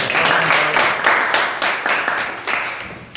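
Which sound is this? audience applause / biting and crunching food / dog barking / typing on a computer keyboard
audience applause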